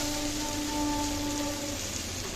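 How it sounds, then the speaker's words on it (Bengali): Lukewarm water poured into a frying lentil mixture, a steady close hiss and bubbling sizzle that holds evenly throughout. "ঈষৎ উষ্ণ গরম জল ঢেলে দিলাম।"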